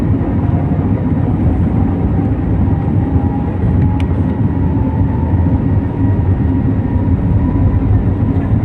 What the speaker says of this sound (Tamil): கொஞ்சம் கொஞ்சமாக ஸ்பீடு அதிகமாகுது. டேக் ஆஃப் ஆக போகுது இன்னும் கொஞ்சம் நேரத்தில்.